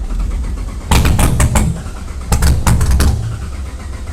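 Drift car engine running on ethanol cranks and starts on a second attempt: two bursts of broadband, rattling turnover and catching, each about a second and a half, loud and close, with quieter idle noise between them.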